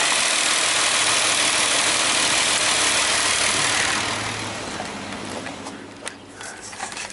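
A Hyundai car engine idles at close range with a steady, broadband hum. Partway through, the noise drops and some light clicks and handling sounds come in.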